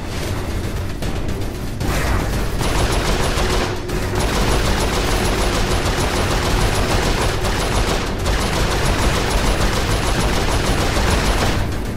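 Turret gunfire in Saints Row IV: loud, continuous rapid-fire bursts that roar on almost without pause for the whole stretch, with only a couple of brief breaks.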